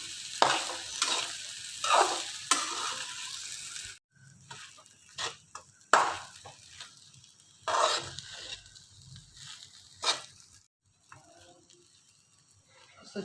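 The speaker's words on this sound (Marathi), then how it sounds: "साबुदाणा घालूया आणि सर्व मिक्स करून घेऊया" Sabudana khichdi being stirred in a frying pan, with irregular bursts of scraping and sizzling separated by short quiet gaps.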